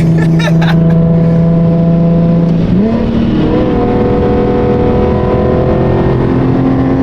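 A Chevrolet Corvette C8 accelerates smoothly through the gears, its loud engine note climbing steadily, then stepping down at a shift and rising again, heard close from inside or beside the car.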